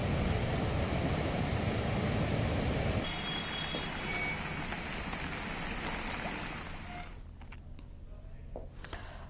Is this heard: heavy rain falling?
yes